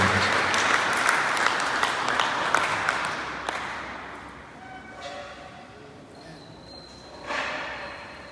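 A church congregation at a prayer conference claps loudly and densely for several seconds, the applause thinning and fading toward the end with a few scattered claps and faint background sounds.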